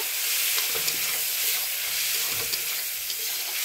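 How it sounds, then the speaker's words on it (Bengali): Masala with chilli powder sizzles steadily in a hot pan after a splash of water is added, a continuous close frying hiss with faint stirring scrapes underneath. "এবারে অল্প করে একটু জল দেবো, দিয়ে ভালো করে কষিয়ে নেব"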